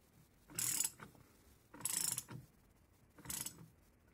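A wrench ratchets in three separate bursts of clicking while a half-inch bolt is tightened to pull the lower unit from an Evinrude 35 HP outboard gearcase. A nut sits on the end of the prop shaft. The clicks are close and fairly faint, with short pauses between bursts.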